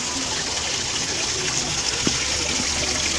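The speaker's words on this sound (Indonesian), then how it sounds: "Pancuran." Water pours steadily from a spout in a rural outdoor setting near a sheep pen, a continuous hissing splash at moderate level with a faint click midway and no talk.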